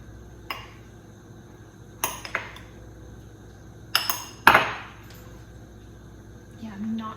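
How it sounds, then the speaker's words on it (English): A kitchen knife cubing food on a surface while baking boba cupcakes: a handful of sharp, close clacks and clinks in irregular bursts, with quiet room tone between them. "Just gonna use the same knife from the milk tea and just cube it a little bit so it's easier to mix."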